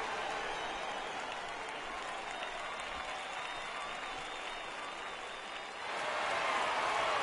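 A baseball stadium crowd in MLB The Show 18 cheers and applauds in a steady wash of noise that swells louder toward the end, with faint commentary underneath.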